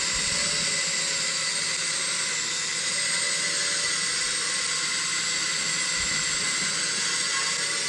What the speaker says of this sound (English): It's a drone, and it's flying.